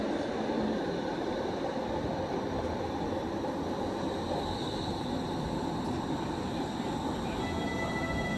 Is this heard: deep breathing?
no